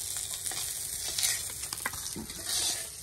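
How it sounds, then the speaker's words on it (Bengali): Fish frying lightly in a pan, with a steady sizzle close by, broken by stirring and scraping sounds and a few clinks. "মাছ বেশি ভাজি নেই, হালকা হালকা ভাজে নিচ্ছি।"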